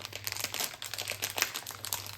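Plastic grocery package crinkled and handled while someone tries to open it, a dense continuous crackling and rustling, close and fairly loud with no talking.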